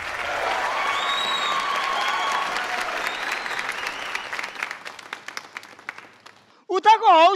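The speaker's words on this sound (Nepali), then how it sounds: "जोरदार तालीको साथमा स्वागत गरौँ यो बजेटको प्रस्तुतिलाई" Audience applause at a Nepali comedy show welcoming a household budget skit, a dense burst of clapping that thins into scattered claps and fades, followed by a brief voice at the end.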